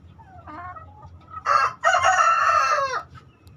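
A young Bangkok rooster with hens in a village-chicken pen: a few soft clucks, then a short squawk and a long, loud crow close to the microphone.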